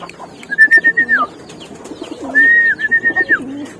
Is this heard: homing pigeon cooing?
yes